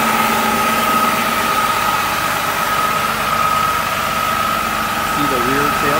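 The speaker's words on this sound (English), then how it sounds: "This is a Detroit engine." A 2008 Prevost H345 coach with a Detroit diesel engine idles steadily at close range, a constant low rumble with a droning tone, while a person talks over it throughout.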